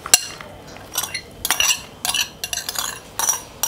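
Carrots, parsley and spring onions are mixed in a bowl for keto shrimp pancakes: quick, uneven bursts of metallic scraping and clinking, close and fairly loud, with short pauses between strokes.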